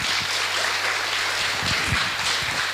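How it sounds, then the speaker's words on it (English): Audience applause at a startup pitch competition, a dense wash of clapping that stays fairly even from start to finish. "Big applause for Thomas Tsanev."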